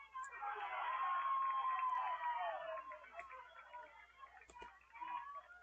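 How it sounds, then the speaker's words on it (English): Crowd cheering at a DIII college softball game, a broad swell of voices rising and holding for a couple of seconds, then fading into scattered background noise. "that cheer you just heard"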